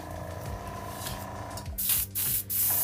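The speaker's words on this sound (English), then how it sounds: "I'm gonna be using Angelus flat white mixed with 2 thin, so it can go through the airbrush" An airbrush sprays Angelus flat white leather paint thinned for a Jordan 10 sneaker restoration, a steady hiss that starts partway through and cuts off briefly twice between bursts, close and fairly loud.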